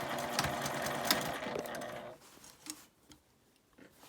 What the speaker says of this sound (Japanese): ミシンをかけます。